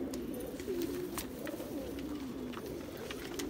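A rare Rampur pigeon coos in a rolling, repeated call, close and clear over a light hum of background noise.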